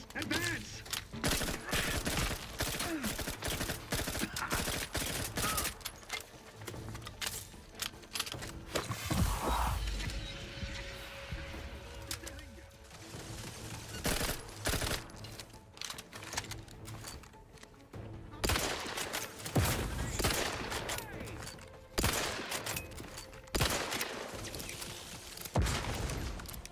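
Rapid bursts of submachine gun fire from The Outer Worlds 2 rattle on and off for almost half a minute, with dense, loud volleys broken by short pauses.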